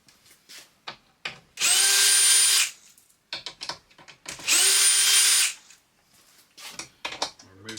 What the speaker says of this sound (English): pull these 6 screws out of the side.